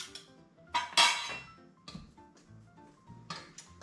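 A pastry knife works butter into buttermilk biscuit dough in a bowl, giving quiet, irregular metallic clinks and scrapes with a few sharper knocks against the bowl.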